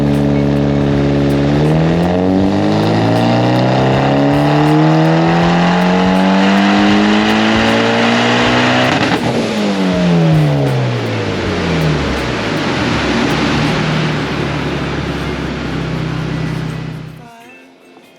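A bolt-on Mitsubishi Evo X on a dyno, running 91 octane with around 20 pounds of boost, revs in one long loud pull, engine pitch climbing steadily, then dropping off before cutting to quiet.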